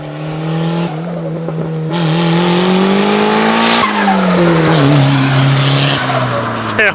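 A turbocharged Honda Civic hot lapping, its hot tires squealing and skidding over a steady revving engine, loud and close, with rising and falling pitch sweeps throughout.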